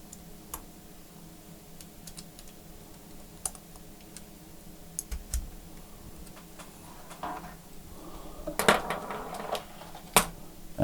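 A computer keyboard on a Dell Precision 7750 laptop is typed on with scattered, faint key clicks that come in quick bursts near the end, against a low steady hum.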